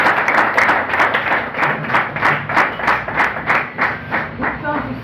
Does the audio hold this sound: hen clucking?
no